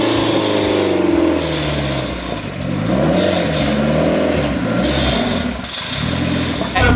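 A turbocharged K20 engine in an MR2 revs hard on a dyno, rising and falling through loud, close sweeps with brief dips between pulls, a voice faintly heard under the roar.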